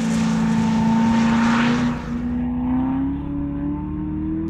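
A Corvette screams around a race track with traction management switched off, its engine howling loud and close, pitch climbing through a gear, then easing and rising again as the car pulls away.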